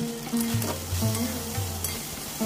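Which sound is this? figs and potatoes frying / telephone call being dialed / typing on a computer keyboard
figs and potatoes frying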